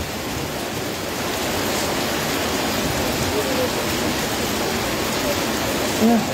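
Heavy rain pours down near a flooded new bridge, making a steady, dense, even hiss that carries on without a break throughout.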